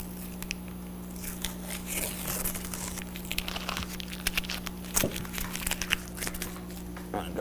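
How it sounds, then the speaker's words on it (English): Masking tape peels off a laser-engraved whiskey glass in a workshop, giving scattered crinkling and tearing crackles over a steady low machine hum. "Peel my tape off here."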